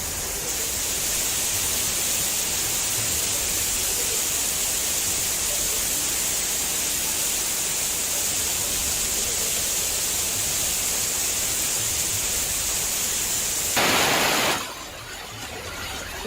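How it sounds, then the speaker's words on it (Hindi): Floodwater roars across roads in Nainital after heavy rain, with Naini lake overflowing. The torrent makes a loud, steady, unbroken rush that shifts abruptly near the end. "सड़कों के ऊपर पानी ऐसे बह रहा है जैसे कोई दरिया हो। बहाव इतना तेज जो शायद नदी में भी ना हो।"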